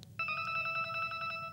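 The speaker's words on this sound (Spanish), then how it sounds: "¿Entró un teléfono, puede ser?" A mobile phone rings with a bright, repeating electronic melody that starts abruptly and continues steadily, loud and close, over a low background rumble.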